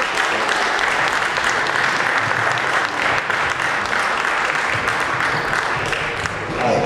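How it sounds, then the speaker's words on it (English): Audience at a talk on the history of steel pans and Caribbean music gives a sustained round of applause, dense and loud, continuing at an even level from start to end. "Give him a round of applause."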